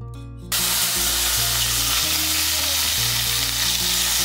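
Chopped tomato hitting tempered oil in a pan, a sudden loud burst of sizzling that settles into a steady close frying hiss with low hum underneath, no talking.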